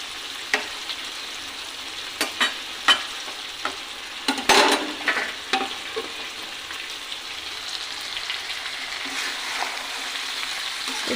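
Mutton being sautéed in a pan for a home-style goat curry, a steady soft sizzle with scattered sharp clinks and scrapes of a spatula stirring, close and alone with no talk.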